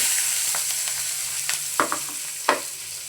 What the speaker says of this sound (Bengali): আমি এখন পেঁয়াজ দিয়ে দিব পেঁয়াজ কষি